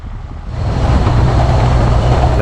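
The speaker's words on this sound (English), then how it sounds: "That sound you're hearing is me losing traction in two-wheel drive." Vehicle on KM3 tires losing traction in two-wheel drive on a dirt track, a loud, steady rumbling roar of engine and spinning wheels that swells slightly and holds close throughout.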